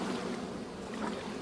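A small boat sails across open water in the game Summer in Mara, giving a soft, steady wash of water and wind that holds at an even level throughout.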